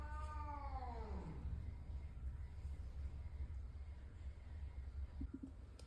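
A house cat lets out one drawn-out wavering meow at the start, close and clear, then the room falls to a low steady hum with a faint brief chirp later on.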